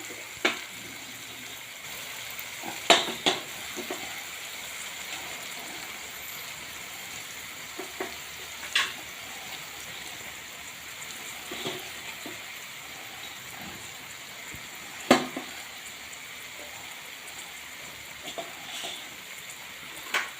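Rice tipped into oil-released fried spices for Gujarati pea rice (matar rice), giving a steady soft sizzle with occasional sharper scrapes and stirring clatters of a spoon in the pan.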